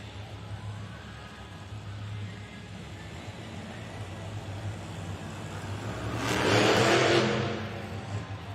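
Monster truck engine at a Monster Jam arena show, rumbling low under crowd ambience, then surging into a loud rev around the middle-late part before easing back, heard at a distance.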